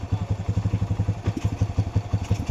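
A Kawasaki Barako motorcycle engine runs after a tensioner repair, close and loud, with a fast, even, thumping idle rhythm that holds steady the whole time.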